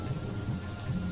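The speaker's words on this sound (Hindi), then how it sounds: "कल से ही लगातार बारिश हो रही, एकदम झमाझम झमाझम" Heavy monsoon rain with low rumbling thunder in a Hindi cartoon story, a brief steady wash of downpour with a deep low roll underneath, no voices.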